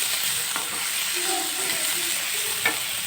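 Onion and tomato fry in a pan for an egg curry, a steady close sizzle and hiss running throughout with a few soft stirring scrapes and clinks.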